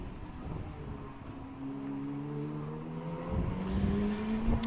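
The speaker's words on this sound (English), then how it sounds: "Wheeler pulls into third place past the Ferrari of Bon Grimes" Race cars accelerate during a Britcar endurance race at Snetterton, their engines rising in pitch as several cars pass, with engine tones layered over continuous track noise and a louder surge toward the end.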